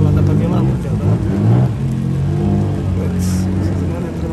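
A D1 Grand Prix drift car engine runs at Fuji Speedway in 2022, heard from a distance as a steady low drone with some rises in pitch, mixed with crowd murmur and nearby voices.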